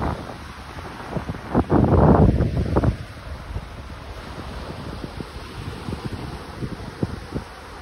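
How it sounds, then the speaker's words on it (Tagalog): Blustery wind at the seaside rumbles against the microphone, with a heavy gust near the start followed by steady buffeting and scattered clicks. "Mahangin."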